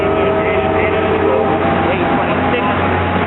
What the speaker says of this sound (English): The train is about to head to Magnolia Park Station.